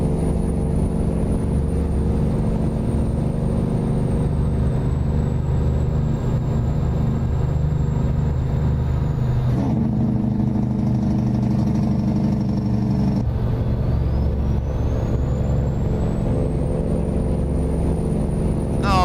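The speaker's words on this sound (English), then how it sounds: "there's no other engine in game that has a turbo whistle like this N14" Cummins N14 truck engine in American Truck Simulator droning loudly and steadily, with a high turbo whistle gliding down, cutting out briefly, then rising again as the throttle comes back on.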